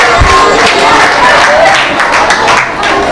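A classroom of students applauds a classmate, a dense, steady wash of clapping hands that fills the space continuously and loudly, with some excited voices mixed in.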